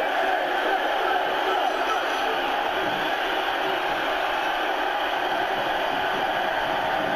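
At a UWA Wreckage wrestling event, a big arena crowd keeps up a continuous loud roar of voices as fans chant together for Finn Balor, a sustained wash of massed shouting from all around.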